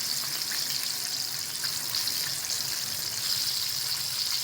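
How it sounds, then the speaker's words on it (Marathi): Chicken pieces deep-frying in hot oil for KFC-style fried chicken, a steady, dense crackling sizzle that holds evenly throughout, close and continuous with no voices. "चांगलं तळून घ्यायचं एकदम छान असं क्रिस्पी होईपर्यंत असं"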